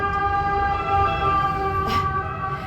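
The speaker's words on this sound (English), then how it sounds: "Italian ambulances." Italian ambulance siren, a steady tonal wail at moderate distance, holding throughout with background noise beneath.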